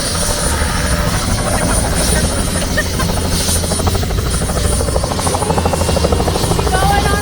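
A helicopter ride over London and New York: a loud, steady rotor drone and engine buzz fill the whole stretch without a break.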